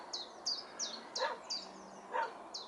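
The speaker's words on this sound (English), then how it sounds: "Got a guard dog in there." A guard dog at an old country cottage barks in a series of short yaps at middle distance, with faint birdsong in the background.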